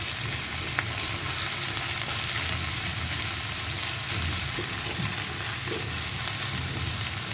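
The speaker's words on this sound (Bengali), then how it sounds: "করে দিলাম শুকনো মরিচ ও কাঁচা মরিচ। এগুলোকে একসঙ্গে সুন্দর করে ভেজে নেব" Dried red chilies and green chilies frying together in oil, a dense, even sizzle that holds steady and close throughout, with no speech.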